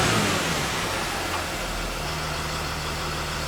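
A Dodge Sprinter van's engine running hard at wide open throttle, a steady loud roar with a low droning tone and no pauses, heard close up.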